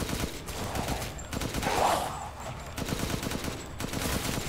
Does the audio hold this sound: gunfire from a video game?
yes